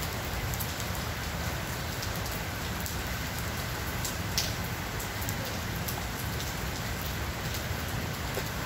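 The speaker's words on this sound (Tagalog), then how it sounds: "Malakas yung ulan, malakas-lakas na rin yun." Heavy rain falls in a steady, dense patter on surfaces nearby, continuous and even for the whole stretch, with no one talking.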